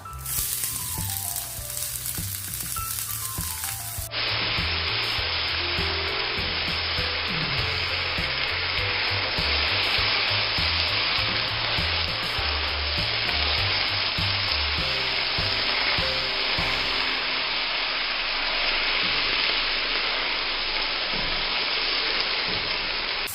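Garlic and onion fry in a little oil for a stuffed ivy gourd masala, starting as a loud, steady sizzle a few seconds in and hissing continuously to the end.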